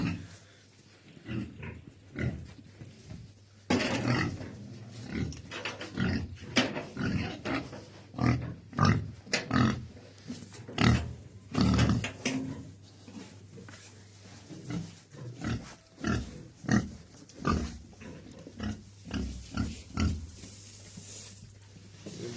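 A sow in a barn grunts and snorts over and over at close range, in irregular, rough bursts with short breaths between them.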